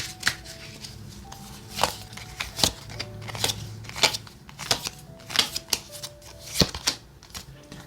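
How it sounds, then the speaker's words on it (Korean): Tarot cards are shuffled and drawn in a series of crisp papery riffles and slaps, some sharp and distinct, with quiet pauses between them and no voices. "타로 카드도 두 장 볼게요."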